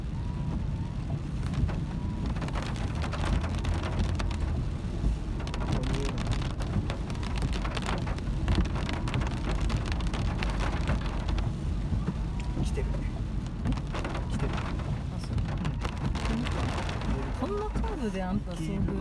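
Heavy rain drums steadily and loudly on a car during a drive from Hanno in Saitama, a dense unbroken patter throughout with people talking over it.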